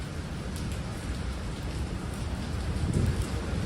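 Steady rain falls outdoors in New York City, a continuous even hiss with low rumble, moderately loud and unbroken throughout, with no voices.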